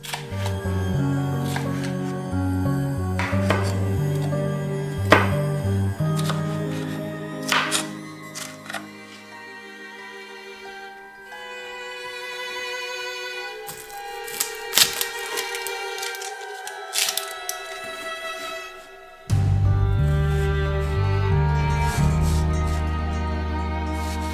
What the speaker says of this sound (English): I cannot cut onion without my eyes watering